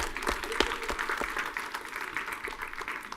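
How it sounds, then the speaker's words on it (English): A round of applause from a conference audience at a technical talk, dense steady clapping that fills the room for a few seconds with a few sharper claps standing out near the start. "round of applause for these guys again"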